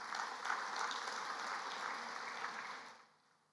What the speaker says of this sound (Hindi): आपके लिए ताली बजाओ।